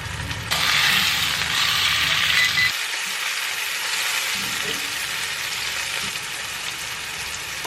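Thin steaks sizzling in a hot pan, a steady loud frying hiss close by that holds almost the whole time with a low rattling clatter underneath.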